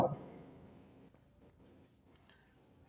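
Chalk or marker scratching across a board during a fifth-grade maths lesson, a faint steady scraping stroke that runs for a few seconds with no talk over it, followed by a sharp louder burst at the very end.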